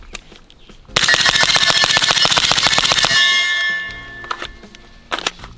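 A .300 Blackout SCAR 15P fires a rapid string of about twenty loud, sharp gunshots over two seconds, each with a metallic clang, followed by a ringing decay and a few scattered distant shots.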